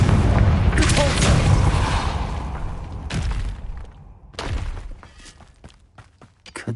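Confringo and Depulso spell blasts going off in the video game Hogwarts Legacy: heavy booming impacts with crackling debris, a rumbling opening blast followed by two sharper hits, loud and close with no talk.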